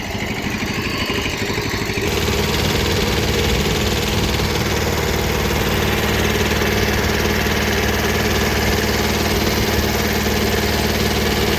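A tractor engine runs steadily and loudly close by, a constant low rumbling drone with a brief shift in tone near the start.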